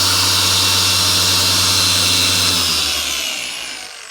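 A car polisher spins at high speed setting 6 with correction compound on a 15-year-old Subaru WRX's paint, a loud steady whirring drone that winds down near the end.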